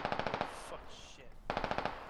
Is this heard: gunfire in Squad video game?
yes